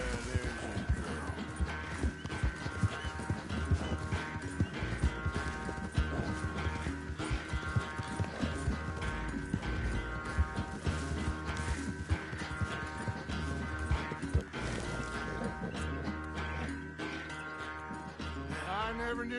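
A horse in Red Dead Redemption 2 gallops with rapid, continuous hoof clip-clops and an occasional whinny, set under a dense, loud music bed that runs the whole stretch.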